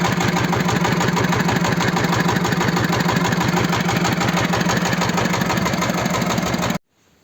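A small walk-behind tractor engine (Kentavr 160V Lux) runs steadily and loudly with a rapid, even chugging pulse while tilling a garden with a rotary tiller, then cuts off abruptly near the end.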